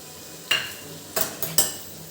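A utensil scrapes and clinks through green bean curry (fansi nu shak) in a pan, giving four sharp, close metallic strokes at uneven intervals over a faint background hiss.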